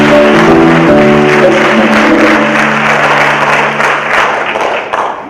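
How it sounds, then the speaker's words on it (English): Loud, sustained applause from an audience at a Hoboken High School ceremony, dense clapping throughout with a few voices, tapering slightly toward the end. "let's give them a round of applause."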